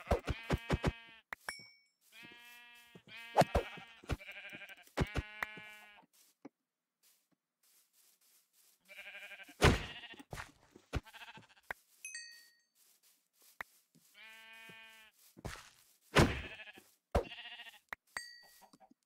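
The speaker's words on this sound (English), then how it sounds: "Guess we're counting the sheeps too." Repeated sheep bleats from the video game Minecraft, several separate calls in bursts with short gaps, fairly close and clear, with a few small chime-like ding sounds in between and no talking.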